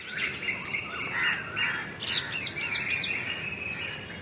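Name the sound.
parrots and koels calling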